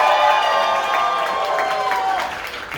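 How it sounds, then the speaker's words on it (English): Scattered audience applause and crowd noise at a Louisville comedy club roast battle, a thin, sustained patter of clapping with some cheering, steady for a few seconds and tapering slightly at the end. "Scattered applause."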